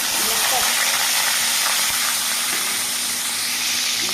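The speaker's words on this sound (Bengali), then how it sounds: "এখন আমি কচু শাকগুলা তেলে দেবো" Taro leaves dropped into hot oil in a pan beside lightly fried fish give a loud, steady, broad sizzling hiss that holds without a break.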